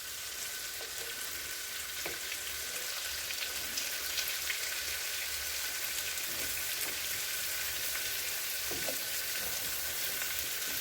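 A German breakfast fries and gets stirred in a pan, making a steady close sizzle with scattered soft scrapes and clicks from the stirring. No one speaks.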